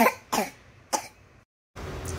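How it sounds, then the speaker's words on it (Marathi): A young child with a cold coughs three times in short, wet bursts close by, followed by a brief silence and faint room noise. "त्याला खोकला आणि सर्दी झाली. सो अजून पण खोकतोय."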